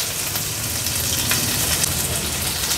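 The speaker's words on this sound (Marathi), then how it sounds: "लसूण तेलावर थोडा आपण परतून घेतला की हा बारीक चिरलेला कांदा आहे हा ॲड करणार आहोत।" Chopped onion and garlic frying in hot oil for a Agri-Koli style river crab curry, a dense, steady sizzle with crackling spatters that stays loud and close throughout, with no voices.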